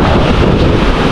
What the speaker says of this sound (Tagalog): Ang lakas ng alon mga kadimon.